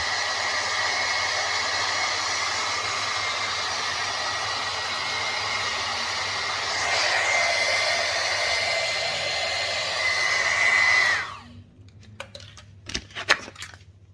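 A hair dryer blows continuously on a covered part of a Carryme folding bike, a close, steady whooshing hum that cuts off near the end, followed by a few light clicks and taps.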